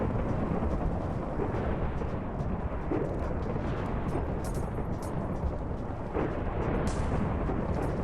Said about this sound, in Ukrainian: Все збивається, пішла гроза.